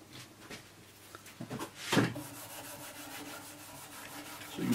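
Rubbing and sanding on a tenor guitar fret with fine micromesh abrasive pad, soft scratchy strokes with a sharper scrape near the middle, close and fairly quiet.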